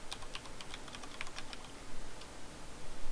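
A password is typed on a computer keyboard, giving a short burst of crisp, closely miked key clicks in an uneven rhythm with no voices.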